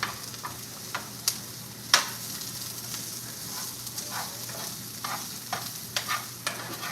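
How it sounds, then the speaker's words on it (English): Onions sauté in a pan with a steady sizzling hiss, broken by irregular clicks and scrapes of stirring; close and alone, with no talk. "So we got the onions here. Let them saute."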